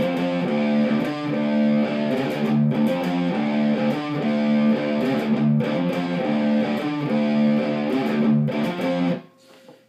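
A distorted electric guitar plays a quick, repeating sextuplet figure, with pull-offs to the open string and palm-muted notes. The gritty, loud phrase cycles steadily for about nine seconds, then stops abruptly into a short fading ring.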